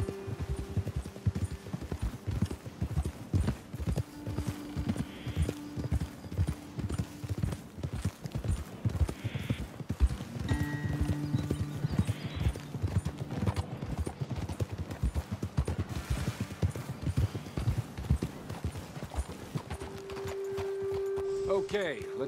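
Horse hooves clip-clopping in Red Dead Redemption 2, a continuous rapid rhythm of riding hoofbeats, close and steady, with occasional tonal game sounds and voices talking over it.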